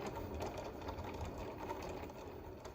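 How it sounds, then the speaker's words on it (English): A Cricut cutting machine cuts out a heat transfer vinyl design for a T-shirt, giving a steady, continuous mechanical whir and buzz throughout, close by and quiet, with no talking. "our machine is still in the process of cutting out the design"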